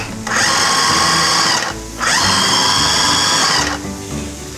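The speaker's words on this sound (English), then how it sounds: "Just give them a few pulses until they grind up and they look like ground beef." A food processor pulses white and cremini mushrooms in two loud whirring bursts of about a second and a half each, separated by a brief pause, close and with no voices.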